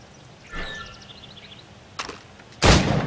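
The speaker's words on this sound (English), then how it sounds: "Go on. Shoot these targets." Sharp gunshots crack at targets in Assassin's Creed Rogue, three separated reports, the last the loudest with a ringing tail, over faint background ambience.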